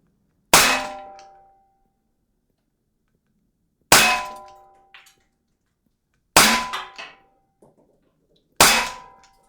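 Four separate shots from an Umarex T4E HDP 50 CO2 less-lethal pistol firing rubber balls at a target, each a sharp, loud crack with a ringing clang from the target, spaced a few seconds apart in a quiet outdoor setting.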